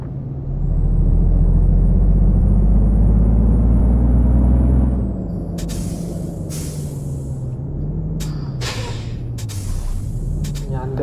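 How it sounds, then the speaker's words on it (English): A Neoplan Starliner bus in Euro Truck Simulator 2 drones loudly with a rising engine note, then drops to a lower idle hum while sharp bursts of air-brake hiss break in repeatedly. "The engine sound is really awesome."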